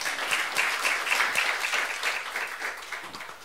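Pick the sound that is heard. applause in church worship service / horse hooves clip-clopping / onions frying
applause in church worship service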